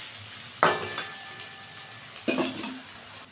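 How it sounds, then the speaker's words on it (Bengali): Three chopped onions fry in hot oil with garlic for a boal fish curry, a low sizzle broken by two sharp clanks of a spatula stirring against the pan. "এবার 3টে পেঁয়াজ কুচি দিয়ে দিলাম। পেঁয়াজটা একটু ভেজে নেব।"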